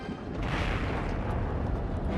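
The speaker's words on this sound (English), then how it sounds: "Thunder and lightning!" A cartoon thunder and lightning sound effect rumbles in a low, continuous roll with a few muffled booms, heard faintly throughout.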